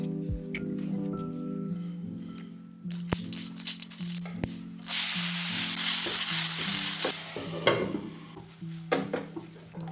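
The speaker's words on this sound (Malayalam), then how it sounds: "കടുക് പൊട്ടിച്ചിട്ട് ഉപ്പേരി ഉണ്ടാക്കാം" Mustard seeds pop and splutter in hot oil, then a coconut vegetable stir-fry sizzles steadily in the pan with occasional scraping of a stirring spoon, close and fairly loud, with no talk.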